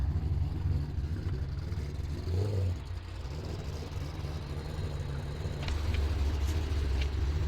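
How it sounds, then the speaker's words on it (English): A Camaro with an engine of more than 1,000 horsepower runs close by in a steady, loud, low rumble that keeps going with little change and no talk over it. "Car sounds so good."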